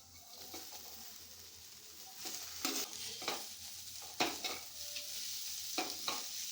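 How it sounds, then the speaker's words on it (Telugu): Cauliflower pieces sizzle and fry in a pan as a spoon stirs and scrapes through them in several sharp bursts, over a constant low hiss of hot oil; no one speaks. "ఇందులోకి క్యాలీఫ్లవర్ మనము టాస్ చేసి పెట్టుకున్న క్యాలీఫ్లవర్ ముక్కలను అయితే వేసుకుందాము"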